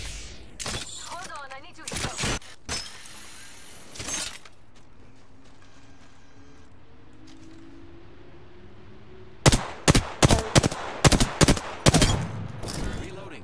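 Gunfire erupts in a ranked firefight in a shooter video game, sharp bursts opening the stretch, then a quiet lull, then a rapid cluster of loud shots near the end.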